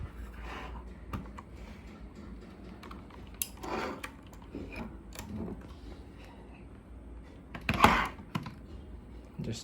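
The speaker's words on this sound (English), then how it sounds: "The keyboard makes very good sounds." Keys clatter in uneven bursts of typing on a Rapoo V500 Pro computer keyboard, close by, with a few louder clacks near the end and no talking.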